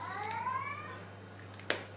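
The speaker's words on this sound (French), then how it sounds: "C'est quoi ce miaulement là que tu fais?" A cat gives a short, clear meow with a rising then falling pitch early on, heard nearby in a quiet kitchen over a steady low hum, followed by a sharp click.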